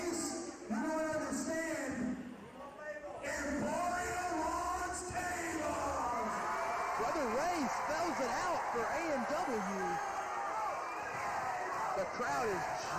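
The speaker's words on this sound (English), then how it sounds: "crowd is jacked for this contest" A packed TNA wrestling house show crowd in January 2006 yells and cheers with a steady roar of voices, individual shouts and whoops rising over the din throughout, while a commentator talks over it.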